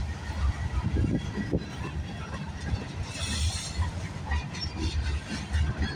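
CN freight train 382 rumbles by close at the Sarnia VIA station in Ontario, with loud wheel clatter, a brief hissing squeal around the middle, and a continuous heavy roll.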